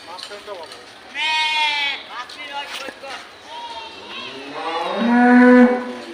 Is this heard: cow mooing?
yes